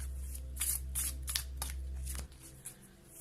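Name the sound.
drawing a card from a fairy tale oracle deck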